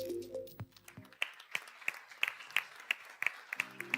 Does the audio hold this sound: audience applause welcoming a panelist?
yes